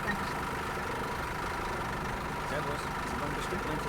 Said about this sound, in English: I can't hear these people over the noise of the engine.